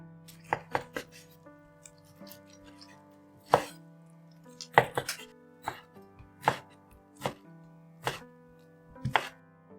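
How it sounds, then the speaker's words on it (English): Knife slicing char siu pork across the grain on a cutting board: a dozen or so crisp, separate chops at an uneven pace, close and clear against a quiet background. "look for those lines again and slice across them"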